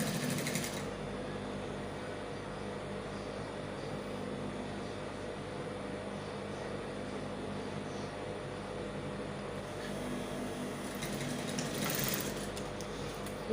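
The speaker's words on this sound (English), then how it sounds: "We're finished sewing our collar." A sewing machine runs steadily while stitching a shirt collar, a faint, continuous motor hum with a slight rise near the end.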